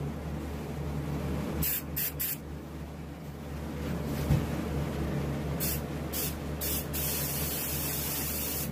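An airbrush sprays base coat sealer onto a carved wood duck decoy, giving a steady close hiss broken by short bursts and pauses as the trigger is worked, with no talk.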